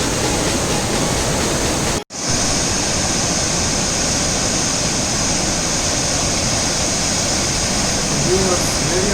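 Chunchi Falls pouring down, a powerful, constant rushing roar of heavy water, loud and unbroken apart from one brief dropout, with people faintly talking beneath it.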